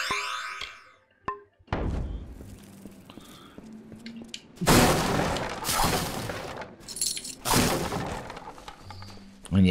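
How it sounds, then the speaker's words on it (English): Boxes being smashed open in a video game: sharp wooden cracking and shattering crashes in several separate bursts, loud and close, with quieter game sounds in between. "And yes, smashing boxes open."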